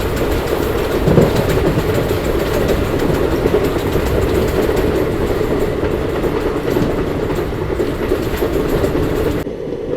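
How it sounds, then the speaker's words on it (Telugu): Tirupati–Puri Express passing through Mandavalli station, a steady loud rumble of rolling wagons with a rhythmic clickety-clack of wheels over rail joints throughout. "బండి అయితే ఇప్పుడు మండవల్లి అని స్టేషన్ స్కిడ్ చేస్తుందండి"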